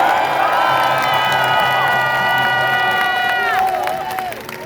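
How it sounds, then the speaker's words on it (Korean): A crowd at an outdoor Korean election campaign rally in Anyang claps and cheers loudly, with sustained whoops and shouted tones over the clapping before it fades at the end. "여러분 오늘 밤에 잠을 잘 주무실 수 있도록 박수 크게 한번 해주세요"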